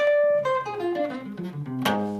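A jazz guitar plays a short descending run of plucked notes, then strikes a bright chord near the end, clear and close.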